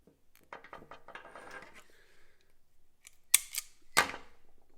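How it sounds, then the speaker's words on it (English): A zip tie cutter tool snips through a small plastic zip tie, giving two or three sharp, close clicks and snaps standing alone after some quieter handling rustle. "let's see if it'll cut this little guy."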